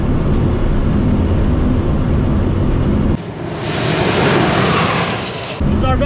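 Mitsubishi Eclipse GSX accelerating hard with the throttle floored in fourth gear, a loud sustained engine roar heard from inside the car; the drone briefly drops, then returns with rising wind rush.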